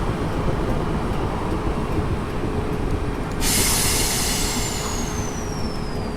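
A passenger train in Train Simulator 2018 on the Hampton Court to London Waterloo route near New Malden rolls with a loud, constant rumble, joined midway by a sharp high squeal that gradually slides lower.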